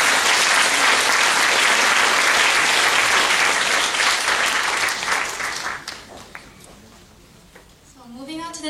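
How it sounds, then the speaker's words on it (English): Loud, dense audience applause at an event about helping Japan, holding strong for several seconds, then fading away as a voice begins speaking at the end. "We should give them a round of applause."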